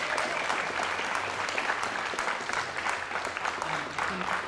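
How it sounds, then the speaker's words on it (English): Audience applauding steadily after a talk about American Jews, activism and Israel in Copenhagen, a dense continuous patter of clapping hands filling the room for several seconds. "please give Ariel a round of applause."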